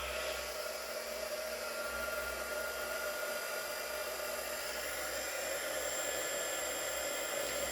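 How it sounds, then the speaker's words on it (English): A heat embossing tool blows hot air in a constant, even whir, like a small hair dryer, running steadily and without pause for the whole stretch. "now heat embossing it"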